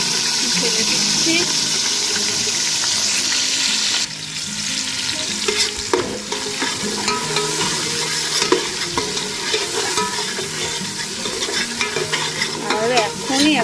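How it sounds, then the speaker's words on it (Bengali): A spice paste of ginger, garlic and onion fries and sizzles steadily in a pan for pilaf, with frequent stirring scrapes and clatter throughout. "মশলাটা ফুটুক আর কষুক একটু"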